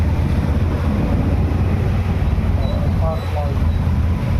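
A boat engine running loudly, a dense unbroken drone that fills the whole stretch, with faint murmuring voices beneath it.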